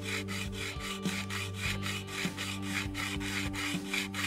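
A metal file rasps rhythmically across Telecaster guitar frets, crowning them in steady back-and-forth strokes, close up and fairly quiet, with no voices.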